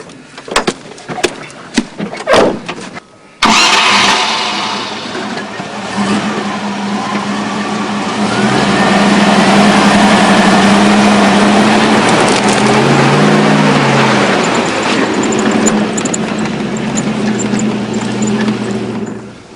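Land Rover Defender starting up and driving off-road over a brash mat during a recovery exercise, with door clunks and handling knocks first, then the engine catching and a loud, sustained mid-range engine drone rising and falling while the vehicle moves.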